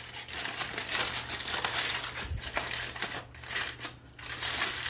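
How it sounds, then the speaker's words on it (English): Aluminium foil is folded over baby back ribs, making close, continuous crinkling and crumpling with uneven bursts and short pauses. "you want to just fold your foil over."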